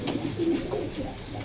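A racing pigeon with a golden eye ring, from a club loft, gives a soft, low cooing call close by, brief and steady over a faint background hum.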